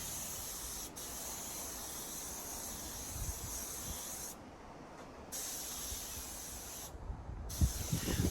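Compressor-fed air spray gun painting the roof of a Peugeot J9 coffee van during restoration, run from a 3 horsepower Clarke compressor, giving a steady close broadband hiss with two brief pauses as the trigger is released.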